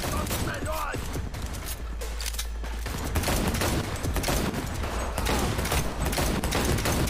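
Dense gunfire bursts from the video game Cyberpunk 2077 on PS5, rapid shots and automatic fire rattling continuously and loudly through the whole stretch, with a speaking voice faintly in the mix.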